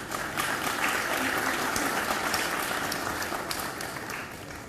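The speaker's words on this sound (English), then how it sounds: "Could we please have a huge round of applause for our postgraduate medical graduates" A large audience gives dense, steady applause for postgraduate medical graduates at an Al-Karim University Katihar ceremony. The loud, continuous clapping fills the whole stretch.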